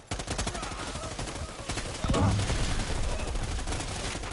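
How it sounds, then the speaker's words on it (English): Grenade launcher fire in Predator: Hunting Grounds, with a dense rattle of gunfire and a heavier blast about halfway through, followed by sustained loud combat noise. "I'm hitting him with the grenade launcher."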